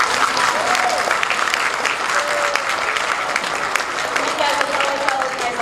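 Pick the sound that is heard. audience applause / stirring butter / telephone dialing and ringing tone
audience applause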